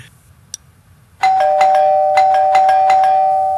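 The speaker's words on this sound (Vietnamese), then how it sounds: "Coi ai mà bấm chuông dữ, bấm liên hồi vậy." A household doorbell rung over and over, its bright electronic chimes striking in quick repeated bursts that overlap into a loud, insistent sustained ringing after a brief quiet start.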